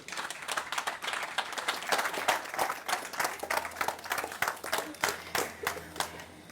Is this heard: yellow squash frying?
no